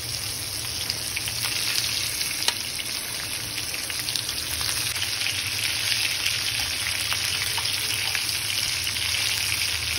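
Stuffed green tomatoes frying in plenty of oil in a pan, a continuous soft crackling sizzle with faint pops, steady and unbroken, no talking.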